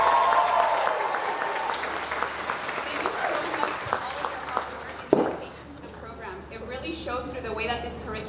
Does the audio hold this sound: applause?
yes